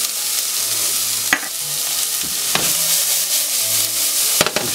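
Chopped onions fry and sizzle steadily in a pan, a close, continuous hiss broken by a few sharp clicks of stirring.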